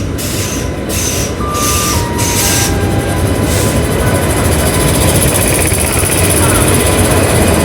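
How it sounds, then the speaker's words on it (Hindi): A passenger train hauled by a WAP-5 electric locomotive rumbles loudly into a station, a steady heavy rolling roar of wheels and cars passing close by, with a few high brake squeals and platform voices mixed in. "ट्रेन आ गई हमारी।"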